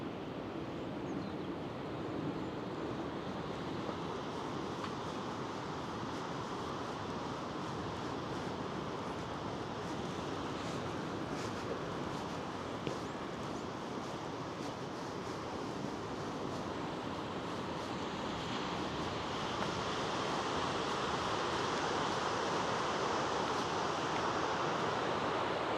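Waves wash onto the beach by the promenade at Laxey while wind blows across the microphone. The sound is a soft, continuous, broadband rush with no speech, swelling slightly toward the end.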